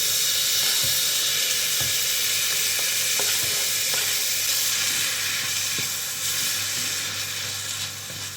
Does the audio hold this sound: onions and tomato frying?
yes